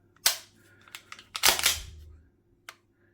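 Trigger pull and reset of an Archwick B&T APC9K gas blowback airsoft gun, a few sharp mechanical clicks up close with a crisp break and a faint reset tick, otherwise quiet.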